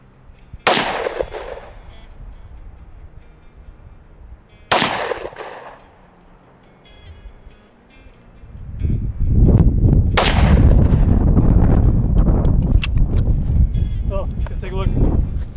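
Three sharp, loud pistol shots from 5.7 NATO or 7.62x25 rounds at a target, spaced seconds apart outdoors, with gusty wind rumble building between the later shots.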